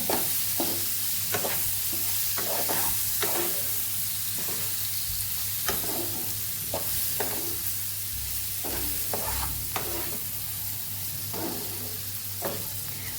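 Red chillies for a Kathiyawadi-style pickle are stirred with a spice mix in a pan. Repeated scraping strokes sound over a steady, close sizzle.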